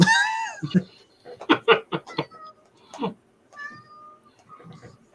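A cat meows in a drawn-out, rising wail, then gives a rapid series of short meows and chirps, with a few softer mews trailing off near the mic.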